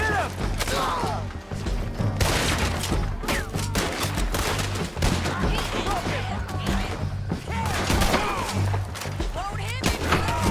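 A Red Dead Redemption 2 gunfight: a dense, continuous stream of shots and thuds, close and loud, over a low rumbling background, with voices shouting now and then.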